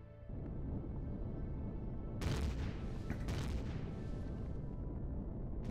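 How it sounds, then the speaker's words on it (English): Cannons and miniguns firing in the video game Empyrion Galactic Survival, a continuous low rumble of gunfire with sharper bursts of booming shots layered on top, fairly distant and muffled. "our cannons and miniguns are going to work on them."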